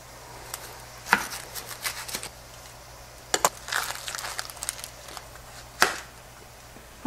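An onion being chopped on a cutting board for a breakfast sausage pizza, with a series of sharp knife strikes in irregular bursts, close and fairly loud, heard alone.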